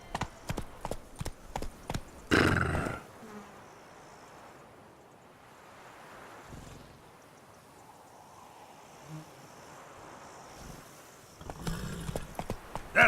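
Roach, Geralt's horse in The Witcher 3, trots with rhythmic clip-clop hoofbeats at the start and end, separated by a stretch of soft wind and ambient noise, with a louder burst around the middle.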